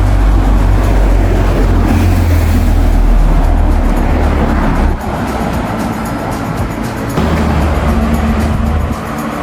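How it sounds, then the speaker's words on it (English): Two vans, a white van and a car behind it, crawl along a narrow street in Petworth town, making a loud, close engine rumble and road noise that holds steady, then dips as they pass. "the two vans, a white van and I think a car behind it, had to kind of almost come to halt to allow the other vehicles on the other side, the oncoming vehicles, to pass"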